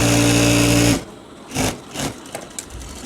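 A sewing machine runs a straight seam down a shalwar trouser leg, loud and close for about a second before stopping, followed by a few short handling knocks.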